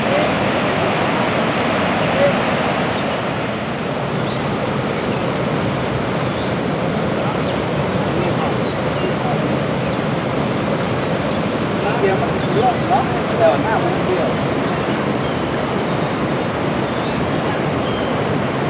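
Niagara Falls pours in a loud, unbroken roar of rushing water that fills the whole span, steady and near, with no pauses or change in level.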